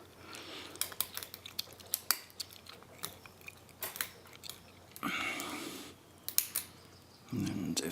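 Small metallic clicks and scraping from picking a Medeco Duracam dimple-style padlock, with sparse sharp ticks close to the mic and occasional brief rustling between them.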